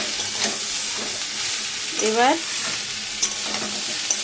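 A spice mixture fries and is stirred in a pan, giving a steady close sizzle with soft scrapes, while a voice speaks briefly partway through.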